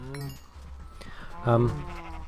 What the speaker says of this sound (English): Hello, is there a sheep in with the cows?